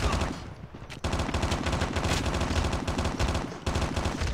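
Chicom submachine gun in Call of Duty Mobile firing in long, dense automatic bursts, loud and close, with brief breaks near the start and end of the stretch.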